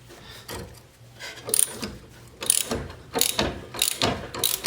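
A wrench ratchets and clicks in uneven bursts while loosening a 14 mm nut on a drag coilover for a Honda Civic/CRX, close and fairly loud with short pauses between pulls.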